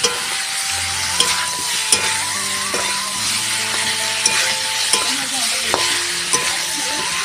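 Cauliflower curry stir-fried in a pan over a wood fire, a loud, continuous sizzle with scattered scraping knocks from the spoon and a faint background hum, no voices.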